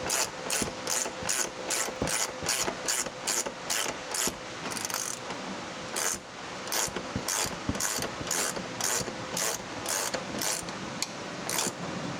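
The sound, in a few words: tightening down bolts while installing a truck lift kit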